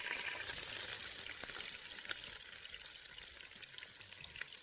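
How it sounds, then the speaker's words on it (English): Julienned onions frying in ghee for chicken kabsa, a faint, even sizzle and bubbling held up close, with a few small pops and no voices. "I'll keep the onions on the heat not until they turn golden, but until their color darkens"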